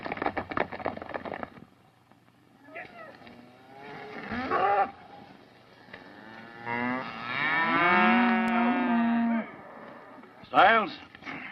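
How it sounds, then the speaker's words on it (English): Cattle on an open range in a 1930s John Wayne western bellow with long, drawn-out moos, one after another, near and loud, mixed with brief crackling noises and no speech. "Put the cattle on the bedding ground."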